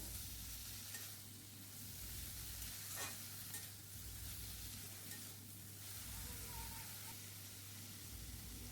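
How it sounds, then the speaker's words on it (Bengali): Pumpkin greens stir-fry in a pan, a quiet steady sizzle under a constant low hum, with occasional soft scrapes of stirring. "এবার এতে আমি কুমড়ো শাকটা দিয়ে দেব, দিয়ে ভালো করে একসাথে এগুলো কষিয়ে নেব।"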